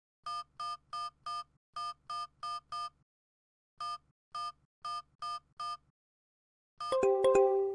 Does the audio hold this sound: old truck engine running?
no